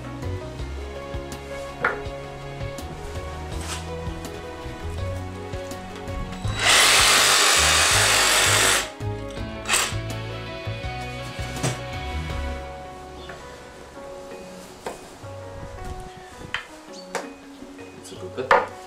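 Meat is cut into pieces for dog tucker for pig dogs, with close, irregular knocks, scrapes and chopping thuds, a brief loud hissing burst partway through, and someone talking between cuts.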